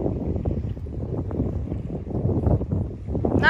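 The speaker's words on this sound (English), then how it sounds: "Nice and breezy today, 10 miles an hour, not too bad." Steady breezy wind over open water on a paddling outing at a coastal island sandbar, a continuous low rushing buffet with wind noise across the microphone throughout.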